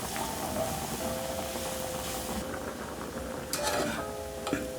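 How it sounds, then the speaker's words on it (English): Red and green capsicum sautéing in a pan, a steady soft sizzle with occasional stirring and light clinks of a utensil against the pan. "So you're going to saute this until"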